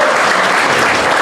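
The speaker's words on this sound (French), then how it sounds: "On va l'accompagner dans sa classe avec des applaudissements." Guests at a 50th birthday party applauding, a loud, dense burst of clapping from many hands, steady and close throughout.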